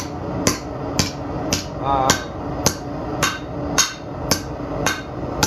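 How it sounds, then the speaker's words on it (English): A hammer strikes copper in a steady rhythm, about two sharp ringing taps per second, close by, while shaping a bracelet. "just any hammer, you can use a ball peen, you can use whatever"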